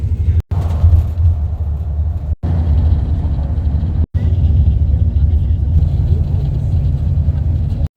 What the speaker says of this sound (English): the bus has finally started, so we're on our way after 3 hours